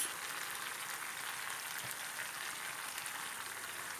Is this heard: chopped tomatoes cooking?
yes